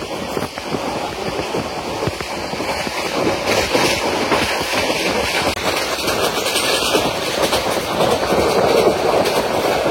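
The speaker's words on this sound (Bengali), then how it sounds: "আমাদের ট্রেনটি অল্প সময় Khanabari rail station through pass যাবে।" Mohanagar Godhuli Express speeding through Khanabari station on its run toward Dhaka, heard from inside a carriage as a loud continuous roar with steady wheel clatter that swells slightly over time, no speech.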